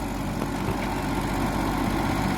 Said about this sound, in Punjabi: ਆ ਗਿਆ ਜੀ ਮੈਸੀ 241 ਇਹ ਵੀ ਬਹੁਤ ਤਗੜਾ ਟਰੈਕਟਰ ਬਾਈ ਜੀ